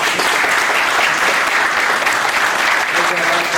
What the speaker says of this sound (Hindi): एक बार तालियां जरूर बजा सकते हैं आप लोग।